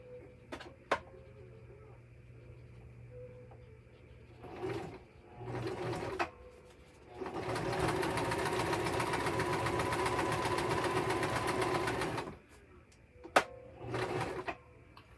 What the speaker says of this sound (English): Okay, sewing is done.